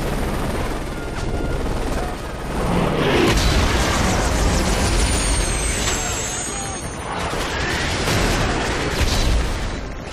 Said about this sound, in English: Grab an RPG and take out that tank!